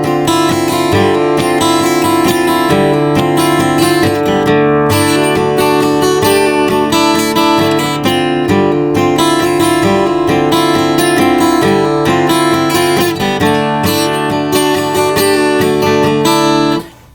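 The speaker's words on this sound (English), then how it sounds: "If I played it not in his style, I just played it without the partial palm mute, it would sound like this." Steel-string acoustic guitar strummed openly without palm muting, playing a song in a full, ringing, steady rhythm for about seventeen seconds, close and loud, with no voice.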